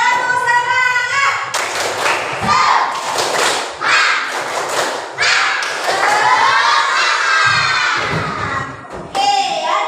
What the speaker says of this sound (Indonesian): Yuk, sebelumnya kita tepuk semangat dulu ya, biar lebih semangat ya.